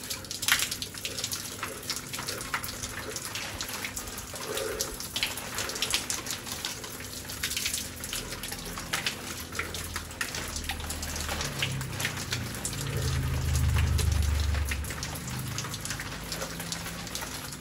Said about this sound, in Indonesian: Jadi kalau dilihat dari tadi intensitasnya tuh hujannya kayak sedang ya teman-teman